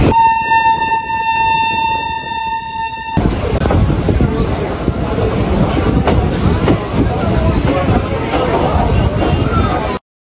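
Tara Maa Express passenger train running between Kolkata Sealdah and Tarapith, opening with a long loud horn blast, then a steady rumble and rattle of the carriages close by, with voices in the background.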